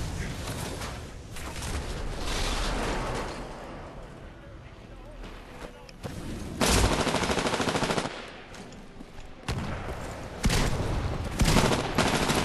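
Automatic weapon fire from the video game Titanfall, loud sustained bursts of rapid shots in several stretches separated by brief pauses, with game sounds and voices talking over them.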